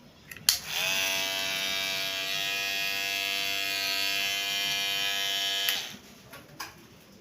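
A cordless electric hair clipper clicks on and runs with a steady buzzing hum for about five seconds before switching off, recorded close and alone with no talking.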